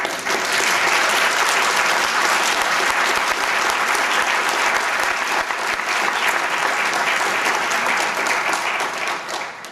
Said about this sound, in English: Maybe a round of applause for Garrick